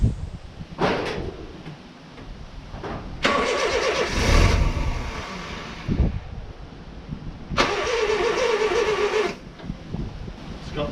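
A Honda Civic with a turbocharged D16 engine on 5 psi boost, running with no ECU and no tune, cranks and catches. The loud bursts of engine noise start and drop off in turns, close by, between pauses.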